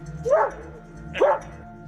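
A police sniffer dog named Quan barks on command during a search at a house, two loud close barks about a second apart with no talking between them.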